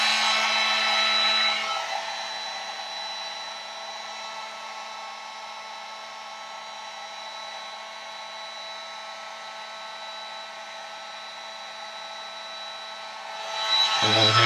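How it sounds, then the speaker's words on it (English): A heat gun held about an inch above a PS3 circuit board for a YLOD reflow fix gives a steady, fairly loud blowing whine, held unbroken throughout with a faint tonal hum underneath. "So you just need to let the heat gun warm up."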